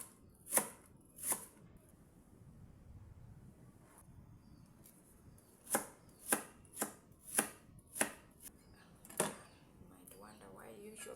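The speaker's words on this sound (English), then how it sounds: "Chopping a lot of onions." Knife chopping onions on a cutting board in a home kitchen, a series of sharp, separate thuds, a pair first, then a quicker run of six or so near the mic, with quiet background in between.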